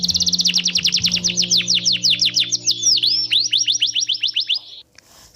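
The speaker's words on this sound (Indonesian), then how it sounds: "seperti kicauan burung," Rapid, bright bird chirps repeat in a quick, steady series, loud and close, with a faint low hum beneath.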